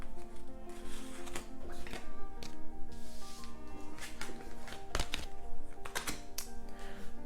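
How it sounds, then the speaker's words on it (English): Tarot cards being gathered up off a table, a run of quick shuffling taps, slaps and flicks of cardstock, fairly close and continuous for several seconds, with no talk. "Let me get these cards off the table."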